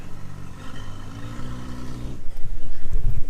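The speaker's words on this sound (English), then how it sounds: "Little badass 4CV rally car." A little Renault 4CV rally car at a French car show in Gouzon, its engine revving loud and close, the note rising into a harsher burst midway as other noise clatters in the background.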